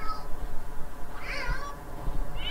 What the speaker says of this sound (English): And looks like there is a cat fight.